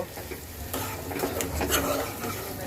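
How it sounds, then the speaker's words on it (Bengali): Goat liver being stirred with spices in a frying pan: a spoon scrapes and rubs repeatedly against the metal over a soft sizzle, close and steady, with no talking. "এবার আমি সব কিছু একসাথে সুন্দর করে মিক্সড করব"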